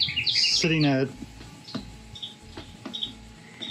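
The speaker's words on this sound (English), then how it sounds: "You can hear the pretty birds in the background." Small birds chirp in short, faint bursts in the background outdoors beside a homebrew boil of a Belgian witbier, while someone speaks briefly at the start.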